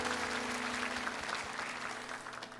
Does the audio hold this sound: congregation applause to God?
yes